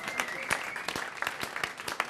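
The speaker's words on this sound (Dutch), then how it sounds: "Ja, applaus." Audience applause at a live TV music show, with sharp individual claps standing out over a thin, scattered crowd response during a brief burst.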